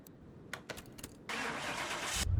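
A Volvo 240 estate drift-edition engine in Car Mechanic Simulator 2021 cranks with a few short starter bursts, then fires up into a loud, steady running roar that settles toward idle at the end.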